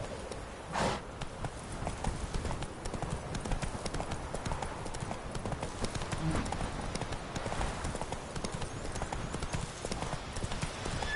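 Horse galloping in The Witcher 3 on Death March difficulty, fast rhythmic clip-clop hoofbeats up close running steadily for the whole stretch with a brief snort near the start.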